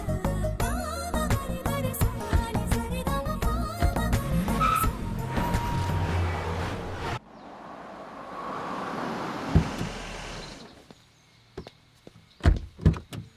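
An Audi Q5 is driven in an action film scene: a busy mix of engine, music and impacts gives way to a loud tire skid, followed by thuds and door-like knocks near the end.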